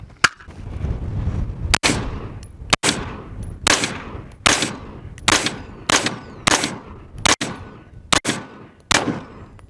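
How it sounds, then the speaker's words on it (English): Rifle shots firing green tip high penetrator rounds at cheap and expensive Level III AR500 steel body armor outdoors; about ten sharp, loud cracks at a fairly steady pace, each with a brief ringing decay and no talk. "now we're doing that green tip high penetrator."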